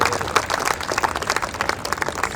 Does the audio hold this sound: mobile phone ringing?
no